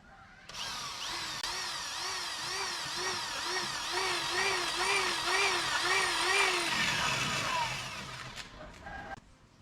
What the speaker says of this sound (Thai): ก็เจาะรูเลย